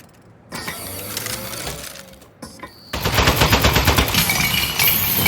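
A small desk turret gun, a toy, opens up in a rapid, loud burst of repeated shots with mechanical rattling. A short whirring lead-in comes before it.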